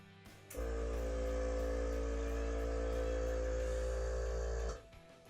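A small Skyline beginner airbrush compressor for miniatures, with a 0.3 liter tank, switches on and runs with a loud, steady motor hum and buzz close to the microphone, then cuts off after about four seconds.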